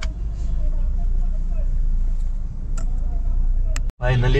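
Vehicles stand in a heavy traffic jam, giving a steady low engine rumble with a few sharp ticks and knocks. Voices are heard close by over the noise.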